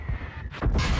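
Heavy artillery shells in World of Tanks boom nearby, two sharp blasts with rumbling tails in about a second, loud and with no one talking.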